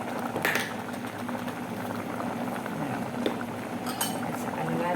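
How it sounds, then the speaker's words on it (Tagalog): Coconut milk stew with parrot fish and malunggay leaves boiling in a pot, a steady close bubbling and simmering throughout with occasional faint clinks of utensils. "kumukulo na siya."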